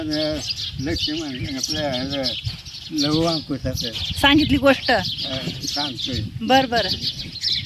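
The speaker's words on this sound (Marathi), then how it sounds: "चिमण्यांचा किलबिलाट सुटलाय" Sparrows chirp busily in the background, a steady stream of high tweets running beneath continuous conversation.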